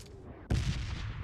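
A single sharp gunshot bursts out after a quiet moment, followed by a rumbling, echoing tail, with the tinny, compressed feel of game audio.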